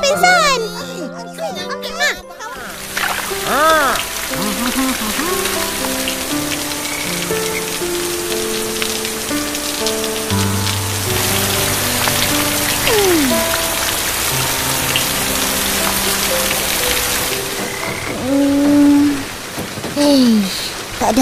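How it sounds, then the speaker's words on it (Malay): Heavy rain falls nonstop, a steady patter on surfaces heard throughout beneath children's voices and a melodic background tune. "Boleh pula hujan lebat tak berhenti-henti."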